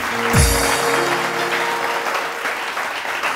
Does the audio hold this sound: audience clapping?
yes